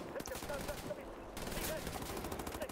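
Machine gun fire in the video game Wolfenstein: The New Order, a dense rapid rattle of shots running steadily throughout at moderate loudness, with speech over it.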